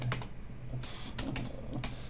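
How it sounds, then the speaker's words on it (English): Someone types on a computer keyboard with irregular clicks and bursts of keystrokes, close and clear, with a low hum behind them and no talking. "Typing in the morning."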